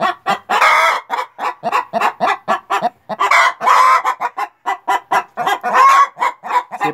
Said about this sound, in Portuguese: Isso é pra você ver a festa que elas fazem por causa de um ovo.